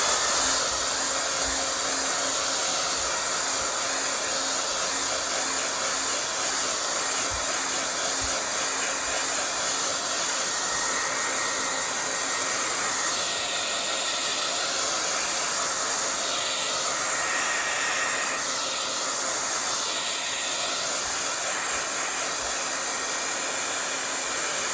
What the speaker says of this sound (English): I'm gonna blow this dry just to ensure everything is dry.